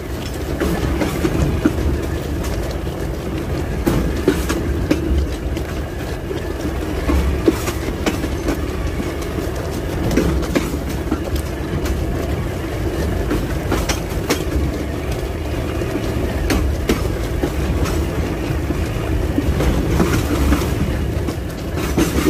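Train cars rolling along railway tracks nearby with steady clickety-clack of wheels, a continuous loud rumble lasting throughout, with faint wheel squeal and no talking.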